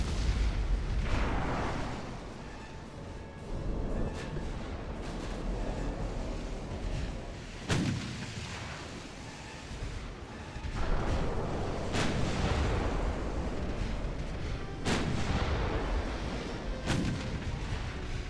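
Heavy naval artillery from warships in the game Ultimate Admiral: Dreadnoughts, loud booming salvos repeating every few seconds over a continuous rumbling battle din, with sharp cracks near the start, middle and end.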